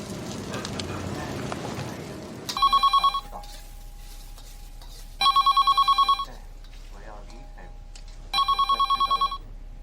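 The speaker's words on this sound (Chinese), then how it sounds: "电话你不知道接一下啊？" A telephone rings in three separate electronic bursts of rapid trilling, each about a second long, spaced a few seconds apart, with quiet room tone between and a voice talking before the first ring.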